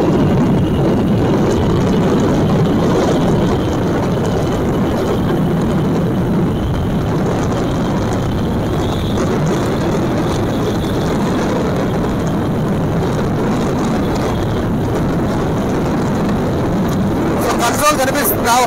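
A Bajaj Pulsar N150 motorcycle riding in fifth gear gives a steady low engine drone mixed with wind noise throughout, under a rider's voice talking near the mic.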